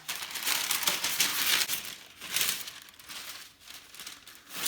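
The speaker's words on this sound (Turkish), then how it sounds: "öncelikle yağlı kağıtla üstünü kaplayacağım" Parchment paper crinkles and rustles in bursts of crisp handling as it is laid over a Kayseri tandır kebab, close by with no talking.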